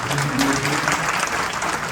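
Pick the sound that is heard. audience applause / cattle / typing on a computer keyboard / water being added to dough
audience applause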